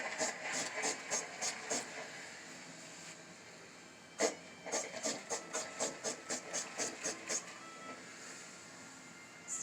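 A clothes iron releases steam while a pillowcase is being pressed, giving repeated short hissing puffs in a quick rhythmic series, a pause, then another run of bursts, moderately close.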